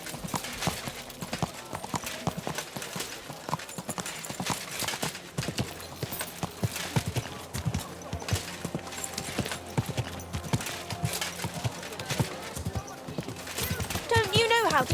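Horse hooves clip-clop in Kingdom Come: Deliverance II, with a steady run of loud, close hoofbeats under game sounds and occasional speech, ending in a louder burst.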